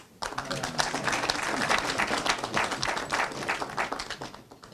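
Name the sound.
applause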